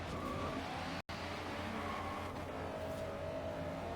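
A rally-built Honda Civic racing in Forza Horizon 3, its engine droning steadily near and loud with tire noise and a brief dropout, shifting pitch as it accelerates, with no talking.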